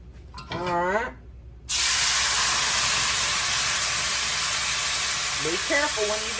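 Water poured into a very hot, large skillet bursts into a loud, sustained steam hiss and sizzle that cuts in abruptly, with someone speaking briefly before it and again near the end.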